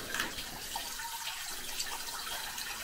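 Water pouring steadily out of a pipe inside a ruined abandoned kindergarten building, a faint continuous splashing trickle heard from a short distance with no talk.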